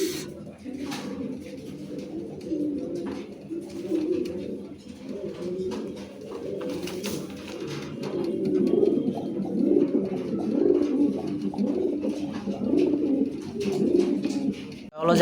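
Lahori pigeons at a farm give soft, repeated low coos that rise and fall in overlapping rolls, close by, growing fuller toward the end.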